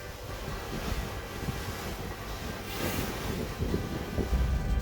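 Wind and waves on a BC Ferries sea crossing, a steady rushing wash of wind buffeting and surf with rising gusts, moderately loud and without talk.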